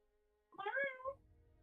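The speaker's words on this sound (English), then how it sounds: "My cat's meowing." A house cat gives a single drawn-out meow, close and clear against a quiet room, with a faint hum behind it.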